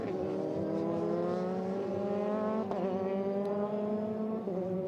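A Euroformula Open race car driven by Tsunoda howls past at Paul Ricard during 2019 qualifying, its loud engine note holding high and steady, then dropping slightly as it flashes by.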